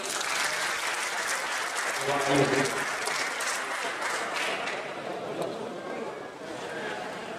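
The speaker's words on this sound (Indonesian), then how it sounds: "Terima kasih, tepuk tangan dulu." Sustained audience applause fills an auditorium for several seconds, a dense wash of clapping with a few voices under it.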